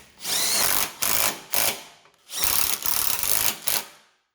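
Power tool, such as an impact driver, running a 15 mm bolt into a 2013 Fiat 500 Turbo lower control arm, two loud whirring bursts broken by short pauses and stutters, with no talking.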